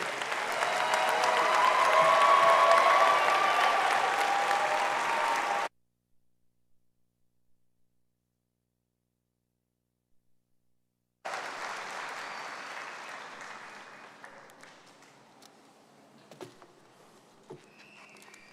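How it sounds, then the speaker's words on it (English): A commencement crowd applauds graduating degree recipients, a broad, sustained wash of clapping that swells over several seconds, cuts to silence, then returns fainter and thins out into scattered claps. "Let us applaud the recipients of all the associate and graduate degrees today."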